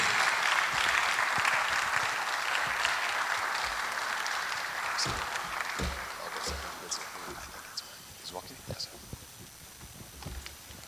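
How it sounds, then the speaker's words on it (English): At a business roadshow event, an audience applauds a speaker walking up onto the stage; the fairly distant clapping gradually thins into scattered claps with some voices in the room. "Keep clapping till he gets up all the way onto the stage."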